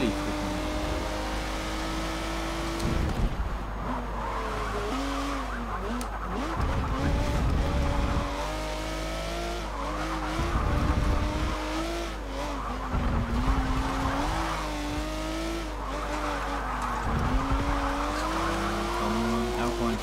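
Race cars, including a Renault Alpine, roar around a track in the video game Forza Motorsport 7, engines rising and falling through gear changes with tire squeal, loud and continuous, while a voice talks over them.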